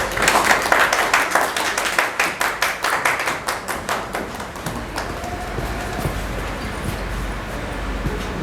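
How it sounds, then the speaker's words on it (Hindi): An audience at a stage play claps to welcome the chief guest, a dense rhythmic round of applause that is loud at first and then thins out into scattered background noise. "तालियों से हम उनका स्वागत करते हैं।"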